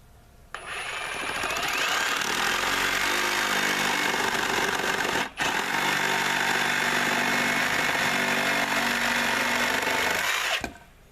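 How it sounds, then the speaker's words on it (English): A battery-powered Milwaukee Sawzall reciprocating saw cuts during a chicken water barrel repair, giving a loud, close, continuous buzzing rasp for about ten seconds, broken once by a brief pause. "It's a reciprocating saw, also called a demolition saw."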